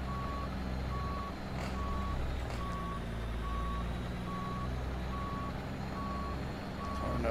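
A truck reversing while maneuvering, its backup alarm sounding steady evenly spaced beeps over the low idle of a diesel engine, moderately close and continuous throughout.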